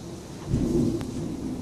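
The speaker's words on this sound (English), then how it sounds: "That was thunder." A brief, low rumble of thunder during a hail storm, with a short crack partway through, set against steady rain-like background noise.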